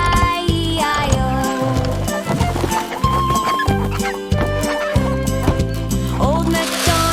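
A nursery-rhyme farm song plays with a cartoon-style chicken clucking in repeated bursts over a bouncy, loud children's music backing with steady beat.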